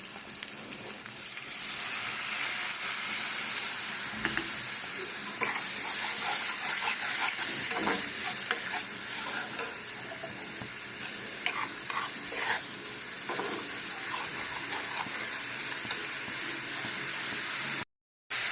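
Ground spices frying in oil for aloo dum, a loud continuous sizzle with frequent stirring scrapes, close up and without speech, cutting off abruptly at the end.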